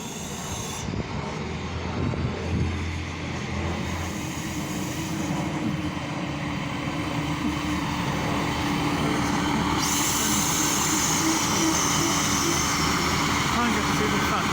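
An Irish Rail 29000 class diesel multiple unit heading to Drogheda rumbles past at a suburban station, a steady broadband roar with a low engine drone throughout, while a voice talks over it.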